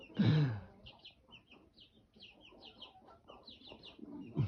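Chickens cluck and chatter in short bursts, with a louder squawk at the start and another near the end, fairly close by.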